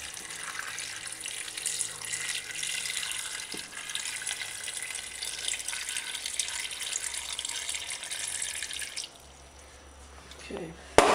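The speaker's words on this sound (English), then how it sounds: "to this mixture we just add in some cold water" Cold tap water runs steadily into a pot of beef or lamb bones and chopped vegetables for broth, a loud continuous splashing that stops abruptly near the end, followed by a brief clunk.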